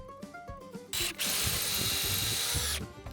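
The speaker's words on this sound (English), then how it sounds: "I drilled holes in the slab so both charging stations and garages will be bolted solid as a rock." A power drill bores holes in a diorama slab in one sustained, loud whirring burst lasting about two seconds, preceded by soft handling taps and clicks.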